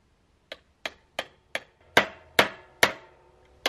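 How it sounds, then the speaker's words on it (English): A star nut is hammered into a bicycle fork tube on a gravel bike build, driven through sockets and a bolt: eight sharp metallic blows at a steady pace, close by, the later strikes louder and ringing longer. "guide the star nut to go in straight as you hammer it down"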